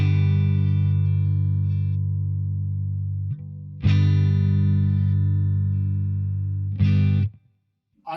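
Electric guitar chords played through a Boss Waza BP-1w booster/preamp pedal, three sustained strums ringing out with a slight chorus-like shimmer, each decaying slowly before the next, then cut off into silence.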